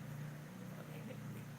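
Motorcycle passing at night, a faint low engine hum with a steady droning tone over background noise, brief and distant.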